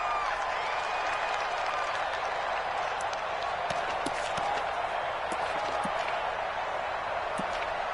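Home stadium crowd at an American football game, Miami playing at Dallas, a constant loud wall of roaring fans with scattered sharp claps and thuds, heard from within the stands.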